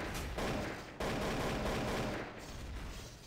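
Shotgun gunfire in the video game Garry's Mod, The Hidden mode, heard as dense, loud broadband blasts with sharp onsets near one and two seconds, continuing without pauses and no talk over them.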